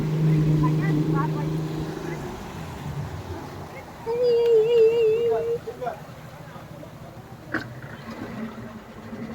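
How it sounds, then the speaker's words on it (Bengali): A banana boat ride towed by a motorboat off Dubai: a steady engine drone runs under nearby chatter, with a whistle-like tone partway through and a brief sharp knock near the end. "এই যে বানানা বোট রাইড, এটাতে আমরা যাবো এবার"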